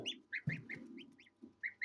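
Goose chicks chirp in repeated high, thin peeps, several quick calls in bursts with short pauses, close and fairly quiet.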